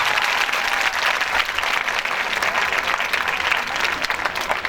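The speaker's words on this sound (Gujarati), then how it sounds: "આપણે તાળીઓની કચાશ ન રહેવી જોઈએ" A college function audience claps in sustained, dense applause from start to finish, loud and steady with no pauses.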